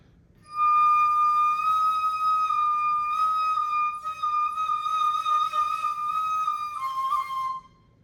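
A breathy bamboo flute plays one sustained phrase, a long steady tone that then shifts pitch and wavers before fading, solo and close.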